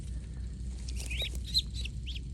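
Poultry outside in the morning give a few short, chirpy calls and clucks at moderate distance, with a low rumbling background beneath.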